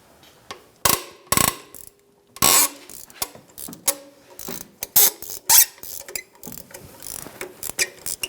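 Ratchet wrench clicking in short irregular bursts while loosening a 13mm bolt on the compressor bracket of a 2015-2024 Jeep Renegade, close and crisp with quiet gaps between strokes.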